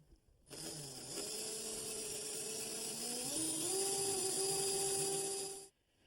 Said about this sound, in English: It's always important to use a sharp masonry bit when you work on tile.